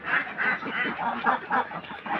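Laying ducks quack in a steady, overlapping chorus as the flock heads back to the house from the pond, the calls fairly close and continuous with no talking.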